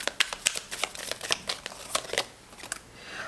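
Tarot cards are shuffled by hand before a two-card reading, a quick run of crisp riffling bursts and papery flicks close up, tapering off near the end.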